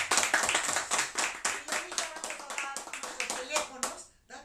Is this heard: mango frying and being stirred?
no